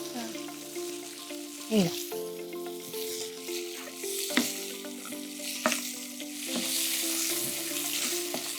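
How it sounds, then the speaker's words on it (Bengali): Crab frying in a pan while being stirred, a soft continuous sizzle with scraping stirs and a few sharp knocks of the utensil against the pan. "বেশ ভালোভাবে লাল লাল করে তুমি এটাকে ভেজে নেবে।"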